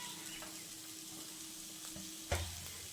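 Potato and egg filling with chopped coriander being stirred in a pan on a gas stove, a quiet soft sizzle under light scraping, then one sharper knock of the utensil near the end.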